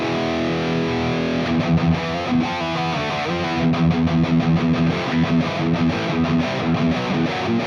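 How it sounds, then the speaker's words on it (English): Electric guitar runs through the lead channel of an Archon amp with a tube screamer engaged, producing a heavily distorted, saturated tone with palm-muted riffing and sustained notes, loud and continuous with no voices. "This is the Archon's lead channel, and I have a tube screamer on this patch"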